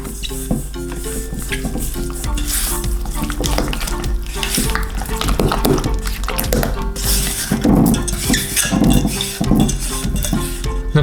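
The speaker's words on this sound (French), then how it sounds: "maintenant, on mélange la préparation" Vanilla yogurt ice cream mixture with powdered vanilla and white sugar being stirred in a bowl, a steady scraping and clinking of utensil against the container continuing throughout, fairly close and loud.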